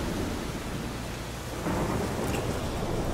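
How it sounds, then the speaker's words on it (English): A thunderstorm rages in The Witcher 3 video game, with heavy steady rain and a deep thunder rumble that swells louder partway through. "The storm, damn it."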